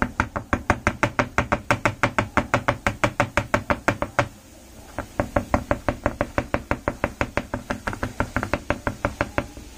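A spoon mixing a drain-cleaning mixture for a dishwasher drain in a container: rapid, steady, knocking clacks at a quick even rhythm, briefly pausing midway before resuming, close and fairly loud.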